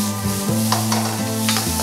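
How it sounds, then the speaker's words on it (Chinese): Chopped aromatics stir-fried over high heat in hot oil in a wok, with a loud, steady sizzle and scraping stirring strokes of the spatula. A low tonal hum runs underneath, and no one speaks. "把料头倒入锅中，开大火爆香"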